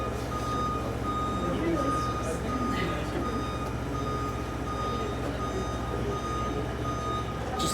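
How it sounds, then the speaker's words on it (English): A truck backs up with its reversing alarm beeping in a steady repeating rhythm, moderately loud above a low idling engine rumble, while people talk nearby. "You don't need it in reverse right now."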